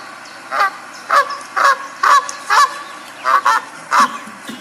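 Loud, close goose honking in a steady series of about eight harsh honks with short gaps, some doubled, sounding alone with no talk.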